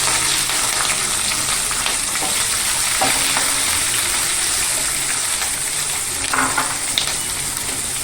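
Onions and green chillies frying in a pan for a bottle gourd curry, a dense steady sizzle heard close and loud with occasional stirring clicks.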